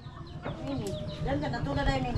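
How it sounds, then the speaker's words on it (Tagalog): Farm fowl cluck and call repeatedly at close range, rising in short bursts over a steady low background, with a voice talking faintly alongside. "Hala amo na yung mga pato"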